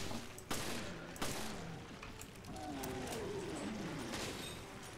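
Gunfire in the video game Resident Evil Revelations: two sharp shots, each followed by a short gap, then a rumbling background with low sweeping tones, moderately quiet throughout.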